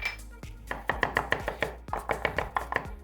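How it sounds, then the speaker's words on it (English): Onion being minced with a knife on a cutting board, a quick run of close, crisp chops in uneven bursts with short pauses between them. "So we're gonna mince this onion up a little more"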